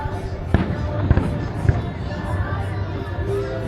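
Fireworks burst at the Pattaya International Fireworks show, several sharp, distant booms over a steady rumble of crowd noise and babble, with people talking nearby.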